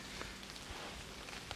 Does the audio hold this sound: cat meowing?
no